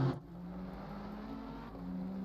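GT3 race cars lap the Misano circuit in Assetto Corsa Competizione with a steady, faint engine drone and a slight rise near the end. No voices are heard.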